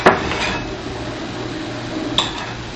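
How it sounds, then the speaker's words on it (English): Butter being spread on cornbread with a utensil against a dish: a sharp clink of metal on plate at the start, a soft scrape, then another light clink near the end, close and quiet with no talking. "We're going to put some butter on this cornbread."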